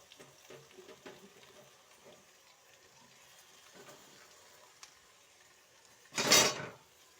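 Eggplant slid into hot oil in a pan already frying potato pieces, bursting into a loud, short sizzle near the end after several quiet seconds of faint clinks and background noise.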